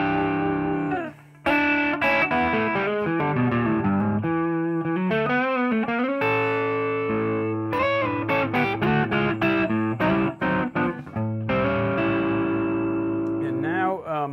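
Gibson Les Paul AFD Slash signature electric guitar on its neck pickup alone, a loud run of chords and melodic lines with a brief pause near the start, sounding alone throughout.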